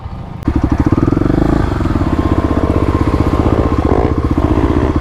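A Stage 3 Kawasaki KLX351 dirt bike on an off-road OHV trail starts up with a sharp onset, then holds a loud, close, rapid putting engine beat throughout.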